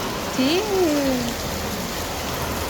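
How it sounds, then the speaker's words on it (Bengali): Heavy rain pours in a dense, steady hiss while a brief vocal sound rises over it early on, then the downpour continues alone. "কি পরিমাণ বৃষ্টি হইতেছে"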